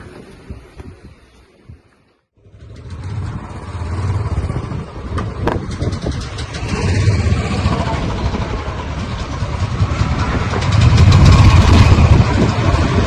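A car engine idles as Vikram pulls the vehicle out of a tight parking spot. A steady low rumble starts after a brief near-silent gap and builds louder toward the end.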